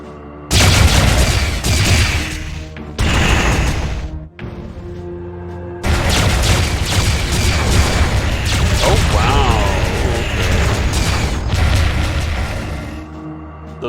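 Missile explosions in Master of Orion 3 arrive as loud, dense bursts of booming, crackling blasts, starting and stopping in chunks over a low rumble with brief quieter gaps, no talking.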